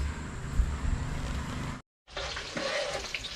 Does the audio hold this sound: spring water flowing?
yes